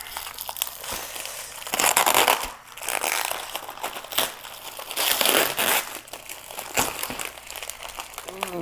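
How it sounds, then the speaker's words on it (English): Plastic wrap is ripped and peeled off a takeout food container, close crinkling and crushing rustles in bursts. "they didn't give me one of those things to rip off this plastic wrap, but it's coming off all right"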